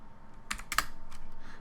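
Computer keyboard keys tapped in a brief burst of about five clicks, near and fairly quiet, with no talk, while a hostname command is entered on an Ubuntu 22.04 system.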